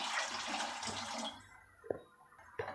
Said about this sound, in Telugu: ఒకటికి ఒకటిన్నర వాటర్ పోసుకొని చక్కగా ఇలా కలుపుకొని